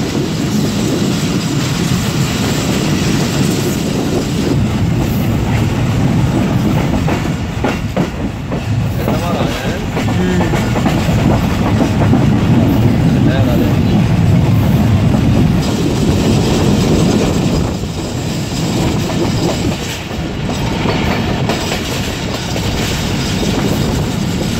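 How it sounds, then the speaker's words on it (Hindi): Passenger train on a Pakistani line approaching Dhitha station en route to Karachi, steady loud rumble of wheels on track with rhythmic clickety-clack and occasional squeal throughout, heard from on board. "तो दोस्तों इस वक्त ट्रेन डीथा रेलवे स्टेशन पर पहुँच रही है।"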